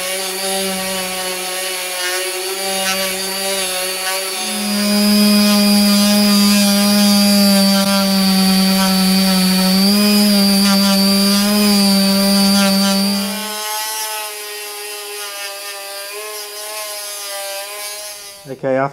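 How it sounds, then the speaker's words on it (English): A small power sander fitted with 240 grit dry paper works on aluminium during an RM 125 motorcycle build, giving a loud, steady whine that runs for several seconds and then eases off. "240 grit dry paper on this little sander, and I've been hitting it over, and it's taking that rough edging just off it"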